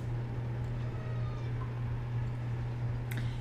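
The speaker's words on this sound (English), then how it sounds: "If you can hear my cat, I'm sorry" A pet cat named Smokey lets out a few faint, brief meows, somewhat distant, half-buried under a steady loud electrical hum that runs throughout with no talking.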